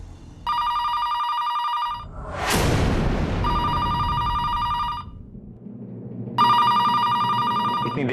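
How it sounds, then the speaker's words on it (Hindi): A telephone rings in repeated loud electronic bursts separated by gaps, and a sharp dramatic whoosh and boom cuts in between the first two rings. "इतनी देर से फोन बज रहा है, कोई उठा क्यों नहीं रहा?"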